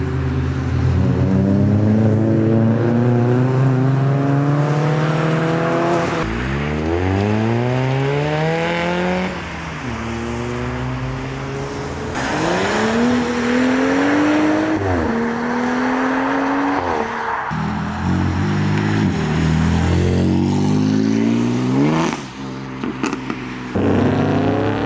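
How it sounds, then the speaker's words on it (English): A modified Ford Mustang leaves a spring car action day at the Castle Combe circuit, its engine revving hard through rising and falling gear sweeps as it drives off, loud and close with other engines in the background. "Check out this Mustang, that's wicked."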